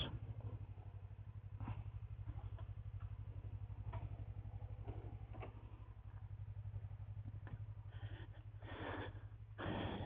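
A motor idling near a canyon road in Kemaliye, a low, even pulsing rumble that runs throughout, faint and steady, with a few brief knocks and rustles.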